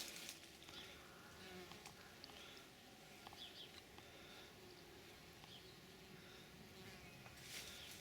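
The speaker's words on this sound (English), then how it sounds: "It's heaving with honeybees." Honeybees swarm over a summer garden in full bloom, giving a steady, dense insect hum close by with no pauses, while faint birdsong drifts in from the distance.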